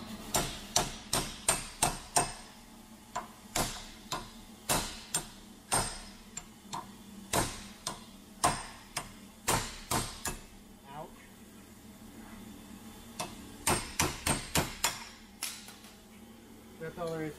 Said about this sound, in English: I just take a regular chisel, stick it in behind there.